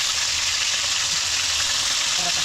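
Fish frying in a pan, a steady loud hiss and crackle of hot oil filling the whole moment with no break.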